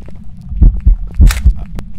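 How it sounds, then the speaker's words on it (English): Heavy, muffled heartbeat thumps from the Phasmophobia horror game pulse in a quick, irregular rhythm of about five beats, low and booming, alongside a brief hiss and a click. "I hear the heartbeats."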